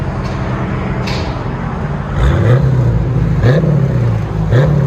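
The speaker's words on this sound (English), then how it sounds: "put it in park, give it gas again" A 6-speed Scat Pack's engine idles in park and then revs in repeated blips, each rising sharply and settling back, loud and close, with no talk.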